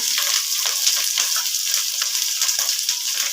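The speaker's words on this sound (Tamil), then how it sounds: "பெரிய வெங்காயம் பிரியாணி இலை சேர்த்திக்கலாம்." Sliced big onions and bay leaf sizzling in hot oil in a pan for egg biryani, a loud, steady, close crackling hiss with occasional stirring and no talking.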